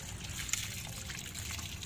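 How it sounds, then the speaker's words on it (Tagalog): Water poured over a motorcycle drum brake during cleaning, a close, steady trickle and splash with a quiet, continuous wash and no talking. "bubuhusan nyo lang ng tubig."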